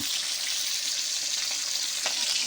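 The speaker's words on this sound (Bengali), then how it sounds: "ভালো করে ভেজে নেব মাছগুলো আমি এই পিঠোর করে" Katla fish frying in a pan of oil, a steady dense sizzle with bright crackling throughout and one sharper pop near the end, close and without voices.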